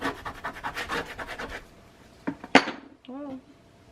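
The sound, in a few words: burnishing with a tool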